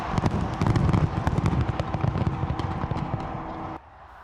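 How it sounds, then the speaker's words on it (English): New Year fireworks burst over Sydney Harbour Bridge in a dense, loud barrage of crackling pops and booms that runs continuously before cutting off abruptly near the end. "Australia's signature fireworks over Sydney Harbour Bridge helped get the New Year's celebrations underway with a bang"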